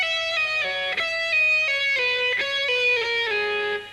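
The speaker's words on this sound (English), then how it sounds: "Now this sound with a lot of pull-offs gives you a real legato sound like this." Electric guitar plays a fast legato lick, notes flowing smoothly through pull-offs with few picked attacks, a clear, sustained, moderately driven tone played alone and up close.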